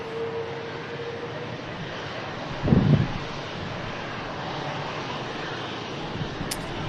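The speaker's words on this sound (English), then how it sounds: "Hainan A330 on the taxi out." A Hainan Airlines Airbus A330 taxis out at Manchester Airport, its steady distant engine roar blending with wind buffeting the microphone, with a brief louder rumble partway through.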